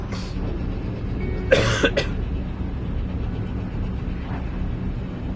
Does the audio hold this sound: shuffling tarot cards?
no